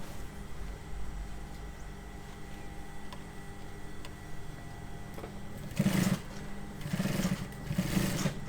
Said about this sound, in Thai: เย็บตะเข็บแป๊บนึงจ้ะ